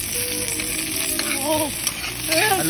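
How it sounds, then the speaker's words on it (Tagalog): Onion and garlic sauté in a hot pan for a karhatan snail dish, giving a steady loud sizzle with brief faint voice-like tones drifting through. "magigisa na tayo ng sibuyas bawang"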